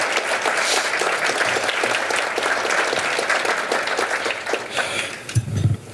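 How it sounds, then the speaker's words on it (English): An audience at a chamber of commerce annual meeting in a hotel applauds the hotel staff, a dense, sustained round of clapping that fades near the end, followed by a brief low thump. "I'd like to give them a round of applause for that"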